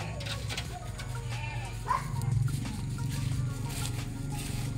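Goats in a pen on a farm give a few bleats midway, over a low background rumble and other faint animal and farmyard noises.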